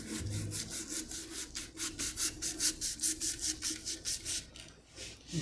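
A rotten desert rose plant is cut back by hand, making a rhythmic series of close, raspy strokes, steady and repeated for several seconds with no talk.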